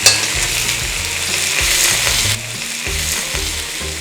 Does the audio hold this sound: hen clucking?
no